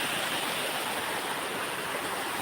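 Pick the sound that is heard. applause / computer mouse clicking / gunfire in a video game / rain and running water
rain and running water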